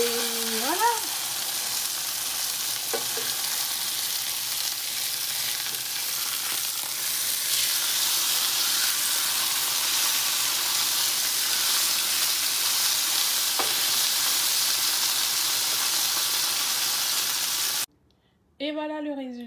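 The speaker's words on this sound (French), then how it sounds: "mes brocolis et mes petites tomates cerises que j'ai passées rapidement à la poêle pour avoir un petit jus" Broccoli and cherry tomatoes fry in a pan with a continuous hissing sizzle that holds steady for a long stretch, then cuts off near the end before a short burst of sound returns.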